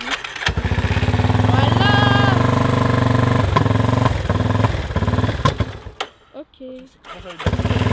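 A quad's engine running loud and close, a steady throbbing rumble with a revving rise, then brief dips and sputters as it idles unevenly and picks back up; a person speaks briefly over it.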